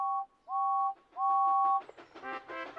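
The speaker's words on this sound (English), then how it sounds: "Then Thomas heard a whistle." James the steam engine sounds his whistle in three clear two-tone blasts, the last one longest, followed by a busier burst of chuffing and higher whistle tones.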